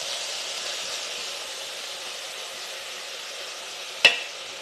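Prawn stir fry sizzling in a pan, a steady hissing fry that holds level throughout, broken near the end by one sharp clink.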